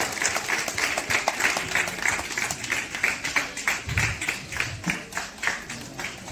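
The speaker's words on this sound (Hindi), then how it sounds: "मैं आप सभी की ज़ोरदार तालियों के साथ इनको मंच पे आमंत्रित करता हूँ।" Loud, steady crowd clapping welcoming an official onto the stage at a Back to Village public event in Poonch, rhythmic and close, continuing throughout without talk.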